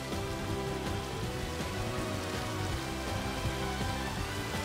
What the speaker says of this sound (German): Ich verstecke mich mal lieber ganz schnell vor dem sauren Regen.